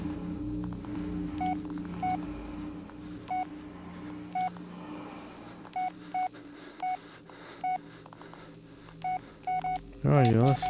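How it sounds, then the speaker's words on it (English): Short beeping telephone dialing tones sound in a scattered sequence, some in quick pairs, over a steady background hum, ending in a louder warbling electronic burst; no clear talk is heard. "That's somebody with a phone"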